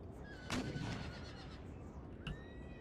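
A cavalry horse in an Empire Total War battle gives a couple of short neighs over a steady wash of battlefield ambience.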